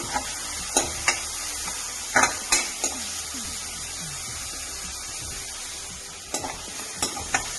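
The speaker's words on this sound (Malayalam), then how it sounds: "സവാള ഒരെണ്ണം അരിഞ്ഞു ഇഞ്ചിയും വെളുത്തുള്ളിയും കൂടെ ചതച്ചത് നന്നായി ഇളക്കി കൊടുക്കാം" Chopped onion frying with crushed ginger and garlic for a cauliflower tomato masala, a steady sizzle under scattered sharp scrapes and clicks of a spoon stirring against the pan, with no voices.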